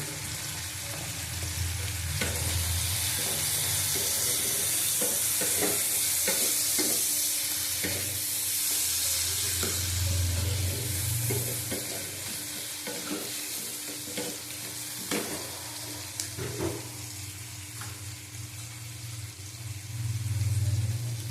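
Turmeric is stirred into shrimp masala frying in a pan, giving a steady close sizzle with repeated scraping strokes of the spoon throughout, and no talking.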